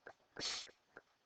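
A single person sneezes in a college algebra classroom, a quick sharp breathy burst preceded and followed by small clicks and breaths, fairly faint and isolated.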